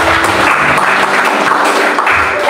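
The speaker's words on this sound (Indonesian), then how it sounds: "Kasih tepuk tangan dulu buat Tuhan kita." Worship congregation gathered in a Jakarta apartment breaks into dense, close applause, a steady wash of many hands clapping together for a couple of seconds.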